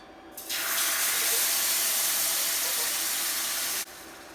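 Whole coconut milk poured from a can into a large high-sided pan, a steady close rushing pour lasting a few seconds before cutting off abruptly, loud and alone.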